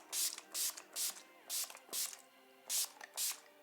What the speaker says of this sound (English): I'm gonna use the Urban Decay makeup setting spray.